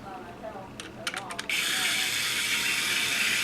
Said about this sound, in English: I want to put the battery compartment back on and bolt it up.